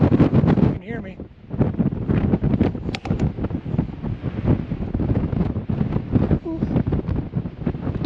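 Strong gusting wind on a mountain trail in Guadalupe Mountains National Park buffets the microphone in a steady, roaring rush with sharp thumps, loud and close throughout.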